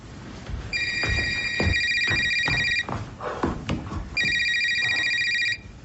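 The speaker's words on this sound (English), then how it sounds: "That's my phone." A mobile phone ringtone rings in two bursts of bright, repeating electronic tones, clear and close, with a short gap between them and faint background rustle and movement.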